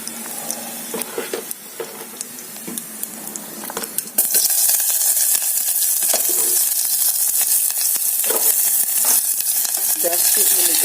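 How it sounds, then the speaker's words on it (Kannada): Onion drops into hot oil with mustard seeds, cumin and asafoetida, setting off a loud, steady sizzle after a few seconds of quieter stirring and spoon scrapes against the pan. "ಈಗ ಒಂದು ಸ್ವಲ್ಪ ಈರುಳ್ಳಿ ಹಾಕ್ತೀನಿ."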